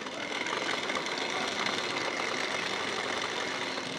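Sewing machine stitching down the folded hook strip of a blouse, a steady, even mechanical whir that runs without pause throughout at moderate loudness.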